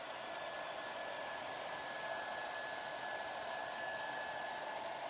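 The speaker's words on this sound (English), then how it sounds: "get your hair dryer out, put it on low, take your barrel brush" Hair dryer set on low, used with a barrel brush to straighten a short beard, blows as a steady, even whoosh throughout with no other sounds.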